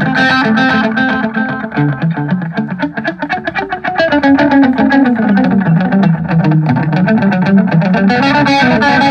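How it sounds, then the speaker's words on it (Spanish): An electric guitar is played through an amp with distortion and a delay effect, producing a continuous stream of loud, overdriven notes with echoing repeats that blur into a thick, sustained wash. "Y ahí viene el delay, Escuchen esta preciosura."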